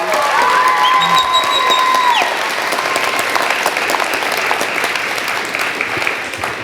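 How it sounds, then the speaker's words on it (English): A theatre audience applauds a performer who played Snow White and a French soldier in a stage show. Steady, dense clapping fills the room, with a few bright whistles and cheers early on before it settles into an even, sustained ovation. "Let's give her a big round of applause."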